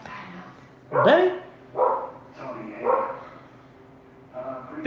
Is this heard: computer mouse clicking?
no